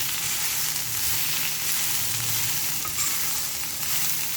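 Pumpkin peel for a stir-fry is stirred in a hot frying pan, giving a constant close sizzle with soft scraping throughout and no talking.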